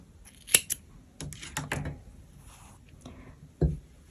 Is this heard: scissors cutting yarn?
yes